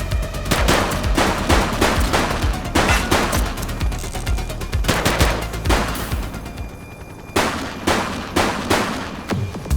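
Heavy gunfire in The Precinct police video game, dense rapid bursts of shots cracking loudly in clusters, with a short lull before more volleys.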